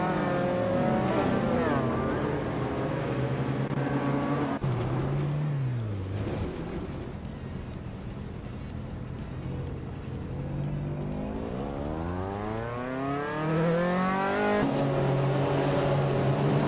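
Racing video game cars roar together, their engines whining and sweeping up and down in pitch as they jostle and overtake one another, with tire squeals mixed into a dense, continuous motor drone throughout.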